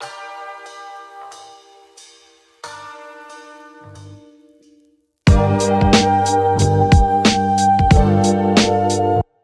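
A thin boom bap beat plays with sparse percussion and the low end cut, then a fuller drum pattern with kicks and snares drops in loudly partway through.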